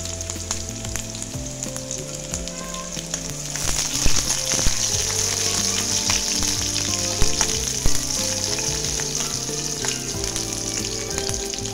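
Crushed garlic cloves and three broken green chillies drop into hot oil for a buttermilk kadhi and sizzle steadily and close, a dense crackling hiss with occasional louder spits and stirring scrapes throughout.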